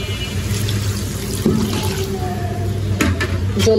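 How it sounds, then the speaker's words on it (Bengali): Water is poured into a pot of cooking curry, a steady close splashing rush lasting several seconds with a few brief clinks. "এখন কিন্তু আমি দিয়ে দেবো পরিমাণ মতো জল"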